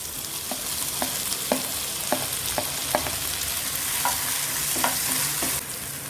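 Tomatoes frying in a pan for palak paneer after garlic and ginger, steady sizzle with regular sharp spatula taps and scrapes roughly every half second, close and alone without speech.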